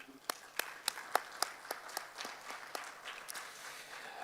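At a men's conference on positive masculinity, a sparse audience claps a departing speaker off, a thin, uneven patter of individual hand claps, fairly faint and distant, thinning out toward the end.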